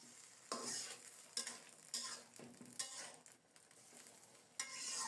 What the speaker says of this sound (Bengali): ভালোভাবে নেড়ে চেড়ে সব কিছু মিশিয়ে চিংড়ি মাছগুলো দিয়ে দেব